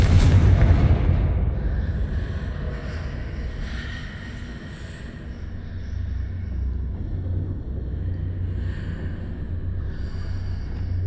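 A Confringo fire spell blast in the Hogwarts Legacy video game: a loud burst at the start that settles into a sustained low rumbling roar continuing through the rest of the clip.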